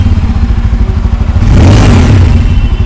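A Bajaj Pulsar N250 motorcycle idles with a steady, bassy exhaust thrum, then revs up loudly midway before settling back, heard up close with no talking.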